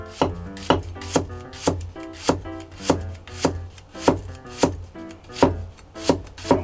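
A knife thinly slices a green onion on the diagonal, with about a dozen crisp, evenly spaced chops against the board, roughly two per second, close and unaccompanied by talk.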